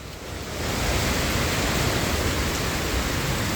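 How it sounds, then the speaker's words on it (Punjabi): Heavy rain and storm in Sri Ganganagar, Rajasthan, pouring down in a steady, dense roar that swells after a moment and holds loud and constant, with no voices. "ਬਹੁਤ ਭਾਰੀ ਬਾਰਿਸ਼ ਜ਼ੋਰ ਸ਼ੋਰ ਦੀ ਤੇ ਚਖੇੜਾ ਤੂਫਾਨ ਵੀ ਬਹੁਤ ਤਕੜਾ ਹੈ"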